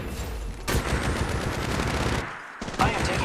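Dense bursts of automatic gunfire in the Apex Legends Mobile battle royale game, loud and near, rattling almost continuously with a brief gap before another volley.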